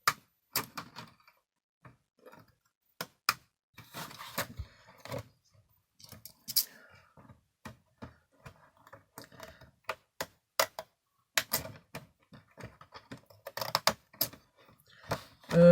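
Pinking scissors snipping along a paper edge, a series of sharp, dry clicks and crunches at an irregular pace, close and quiet between cuts, with a louder snap at the end.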